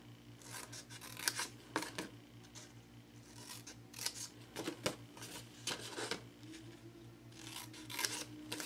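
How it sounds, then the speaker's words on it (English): Scissors snipping score lines into a paper box, a series of crisp close cuts in irregular bursts over a steady low hum, with no talk. "take your scissors and you're going to score on the 1 inch line on the landscape side"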